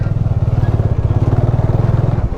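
A Bajaj Dominar 400 motorcycle engine runs loud and close, a steady, fast throbbing pulse with a deep rumble, heard alone on a ride through Laos.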